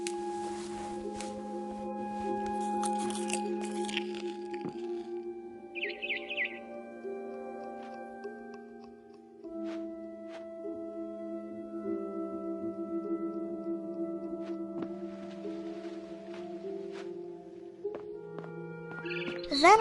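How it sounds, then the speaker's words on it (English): Sparse chirps from a barn swallow in the game What Remains of Edith Finch, heard amid a soft, sustained musical background with faint tones and brief tweets. "Then I heard chirping outside my window. It was a barn swallow going back to her nest."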